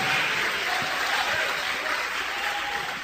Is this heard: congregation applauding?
yes